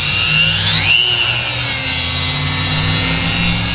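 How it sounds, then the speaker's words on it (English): A Dremel rotary tool cuts a relief notch into the broken rear wiper arm of a Ford Escape. It gives a continuous high whine that dips in pitch as it bites, then holds steady. "We'll just use our little Dremel, and we're going to try to cut a little relief notch in it"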